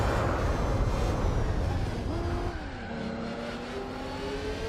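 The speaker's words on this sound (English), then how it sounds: "Some cars got their engine sounds changed." Race car engines in the Gran Turismo 4 video game roar continuously and loudly, with a steady drone and a whining pitch that climbs, dips and rises again.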